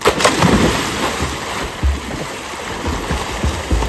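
Water churning and splashing in a swimming pool during a family swimming race, a steady rush of rough splashes and bursts of surface noise throughout, loud and close with no voices.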